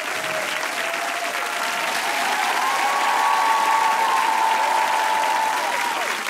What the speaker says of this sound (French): je vais l'applaudir très très fort.